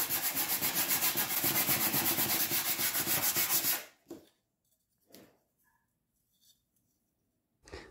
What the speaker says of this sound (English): I sand this off so that the epoxy can better adhere to both sides